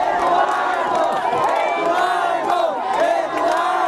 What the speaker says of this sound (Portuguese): As pessoas gritavam o nome do ex-prefeito durante todo o tempo.